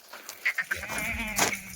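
Goats bleat at a livestock market in a few short, close calls, with crowd murmur and a voice in the background.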